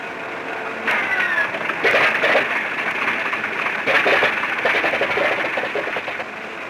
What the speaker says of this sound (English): The co-pilot then turns on the fuel booster pump and switches on the ignition and starts number 2 engine.